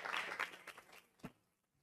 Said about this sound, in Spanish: aplauso para Mario Romero, por favor